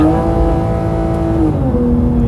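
A Porsche GT3 RS fitted with a ported throttle body pulls hard in second gear, its engine giving a loud, steady, close-up howl that shifts pitch partway through, with no talking.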